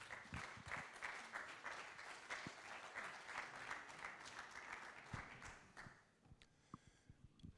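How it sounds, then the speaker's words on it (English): A conference audience applauds a host walking on stage at a climate event, a steady wash of many hands clapping that runs for several seconds and then dies away into scattered claps and room noise. "Please give him a warm applause."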